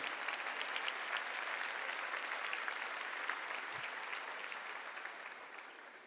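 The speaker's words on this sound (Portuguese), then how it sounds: "pode aplaudir" A church congregation applauds steadily and evenly for several seconds, a dense spread of many hands clapping that slowly fades near the end.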